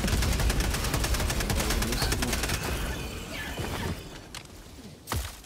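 Rapid automatic gunfire in the shooter game Helldivers, a loud, dense stream of shots for a few seconds that thins and fades, then one last sharp shot near the end, with no talking.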